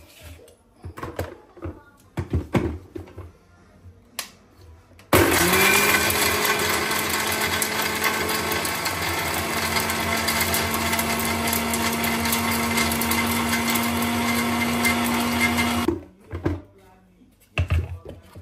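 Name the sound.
mixer grinder grinding spices with chilli powder and salt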